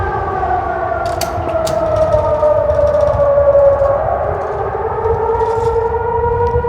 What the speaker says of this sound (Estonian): Väike sireeni harjutus ka teile.